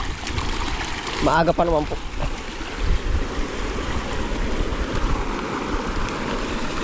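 Irrigation water is released into a crop field, a continuous rushing flow that runs steadily under a man's nearby speech.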